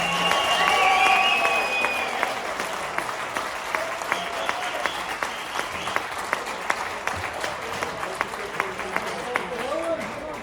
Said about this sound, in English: another round of applause for these 5 pro anglers.